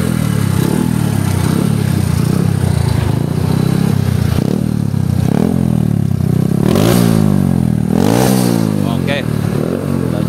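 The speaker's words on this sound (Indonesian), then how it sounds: "Kita mau tes jalan guys, tes jalan. Ya. Kita lihat seperti apa motornya." A Honda Win motorcycle set up for touring, out on a test ride: its engine drones steadily close by and swells through several revs and gear changes, with traffic noise and a voice now and then over it.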